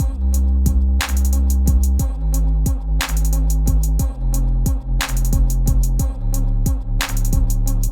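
Punchy chopped vocal stabs in a tight repeating rhythm over a deep bass line, with bright accented hits landing every second or so.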